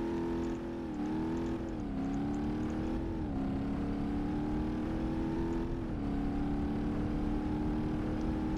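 The engine of a Fortune vehicle in the BeamNG.drive video game drones steadily and loudly, its pitch dipping and climbing slightly as the throttle shifts, with no other sounds over it.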